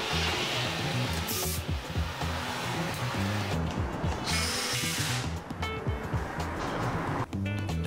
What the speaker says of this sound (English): Starting putting in the screws.